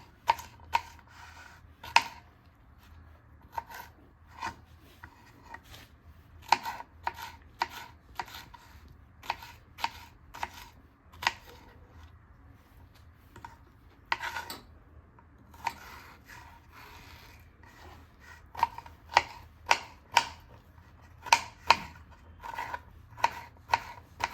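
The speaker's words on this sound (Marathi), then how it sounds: "बरोबर परत ह्या अर्ध्याचं परत अर्ध करायचं आणि हे छोट्या अशा भागामध्ये आपल्याला कट करून घ्यायचं" A knife chops ridge gourd (dodka) into small pieces on a board, sharp crisp cuts coming in irregular clusters with short pauses, close and clear against a quiet background.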